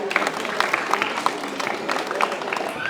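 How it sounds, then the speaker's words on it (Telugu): Audience clapping at a stage event honouring a serial actress, a brief, dense patter of many hands at moderate loudness, with a voice speaking over it. "చప్పట్లు గట్టి కొట్టాలి ప్లీజ్"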